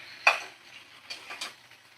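Fried chicken is stirred and sautéed in a pan. A few short scraping strokes of a utensil against the metal sit over a faint background sizzle.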